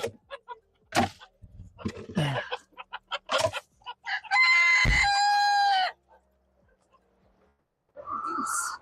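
Chickens on a farm clucking and squawking after a black dog chases one out back, with sharp agitated calls, a rooster-like crow in the middle and a final burst of clucking, all close and loud.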